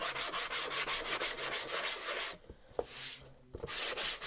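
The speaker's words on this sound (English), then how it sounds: "that is how we're going to sand this, by running vertically" An electric sander works wood with vertical passes, a loud steady buzzing grind with rhythmic pulses that stops abruptly, followed by a clatter, a brief lull and the motor starting again.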